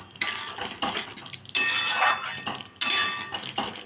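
A metal spoon scrapes and clinks against a pan while spices are stirred into a parwal curry, three or four separate scraping strokes, close and clear, with short pauses between them.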